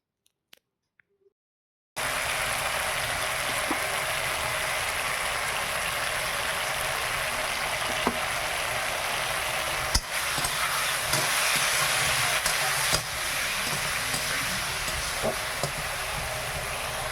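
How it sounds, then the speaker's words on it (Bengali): Chutney cooking in a wok on a home stove gives a steady, loud broadband sizzle and bubbling hiss throughout, with occasional faint clicks of stirring, after a short quiet start. "এবার উনুনে কড়াটা নিয়ে এসে চাটনিটা রান্না করে নিচ্ছি"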